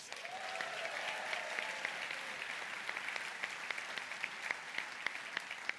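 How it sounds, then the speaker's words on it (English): An audience at a charity cycling event's annual gathering gives volunteers a round of applause, steady mid-distance clapping with a few brief cheers early and sharper individual claps standing out toward the end. "They deserve another round of applause."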